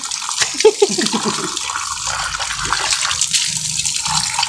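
Running water from a tap washing a freshly dug-up object still caked with soil, a steady splashing stream with a few brief clatters near the start, close by.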